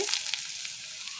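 Onions fry in hot oil in a pan, giving a steady, close hiss and crackle with no talking.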